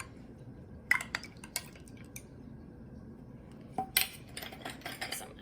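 A drink being stirred in a glass, heard as sparse, quiet metallic clinks and taps in short bursts against a low, hushed room background, with no talk.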